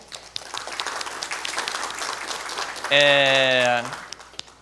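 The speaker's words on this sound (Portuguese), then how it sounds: "Salve de palmas para o Leon" An audience at a mathematics teaching lecture claps for a volunteer named Leon, a moderate scattered patter of hands interrupted by a loud tonal blare lasting about a second, then trailing off.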